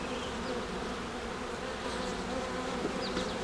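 Honeybees buzz steadily at a hive, a dense, continuous hum of many insects close by, with a faint click near the end and no voices.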